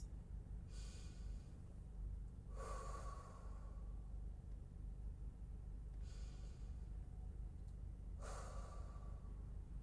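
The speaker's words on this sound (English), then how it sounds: "Let me just insert that and take a couple deep breaths." A few slow, deep breaths taken during a calm reflective pause, spaced several seconds apart and fairly close, each a soft airy rush over a steady low background hum.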